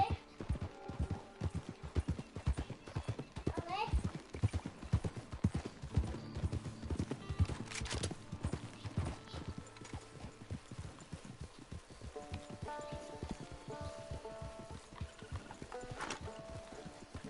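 Horse hooves clip-clop in a steady, continuous rhythm in the Red Dead Redemption 2 video game, with a whinny and scattered game sounds mixed in at a moderate level.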